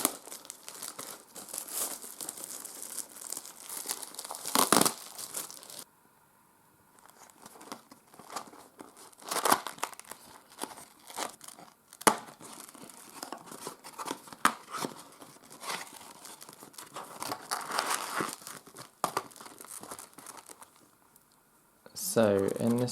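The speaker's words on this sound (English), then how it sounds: "I'm just going to take the plastic off" Plastic wrap being torn off a Star Trek card game booster box, with close crinkling and tearing in uneven bursts and pauses, interrupted by a few sharp rustles.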